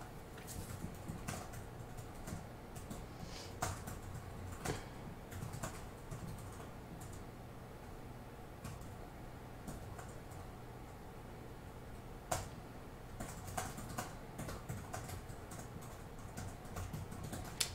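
Soft, irregular keystrokes sound on a computer keyboard, tapping in bursts with brief pauses. The typing is quiet, with no talking over it.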